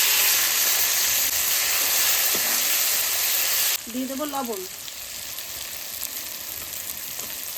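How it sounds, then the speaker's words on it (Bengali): Onions sizzle loudly in a pan for goat meat curry, a bright steady frying hiss that drops sharply partway through, followed by quieter sizzling, stirring, and a brief voice. "পেঁয়াজটা তাড়াতাড়ি ভাজা হয়ে যাবে।"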